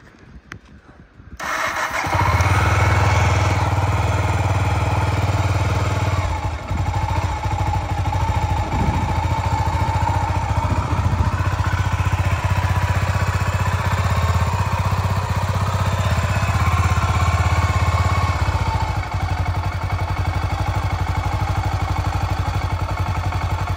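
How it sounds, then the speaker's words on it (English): A cold 1991 Honda GB500 TT motorcycle, choke applied, cranks briefly and then catches, settling into a loud, steady single-cylinder idle that runs on alone for the rest of the clip. "So, the bike is cold. Let's start it up."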